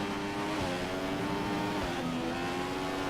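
A Formula 1 race car engine from the F1 2015 racing game screams at a steady high pitch, with subtle shifts in revs, loud and continuous with no voices.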